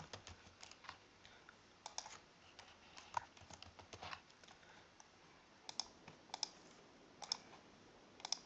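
Keys tapped on a computer keyboard while entering details into an online form, irregular quiet clicks in short bursts with a few louder key strikes, close and alone.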